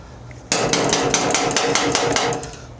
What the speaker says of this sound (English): my microphone is right in there where the impact gun is. Very loud.